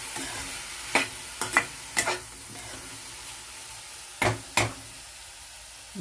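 Tamarind goes into a capsicum gravy in a pan, with a low simmer underneath and a handful of sharp, close spoon knocks and stirring scrapes spaced irregularly; no talk.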